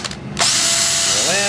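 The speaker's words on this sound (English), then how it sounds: "So hold your drill bit straight up and down. Drill in, pull out." A power drill bores a 3/16 inch through hole, starting with a brief click and then spinning up into a loud, steady whine that lasts to the end.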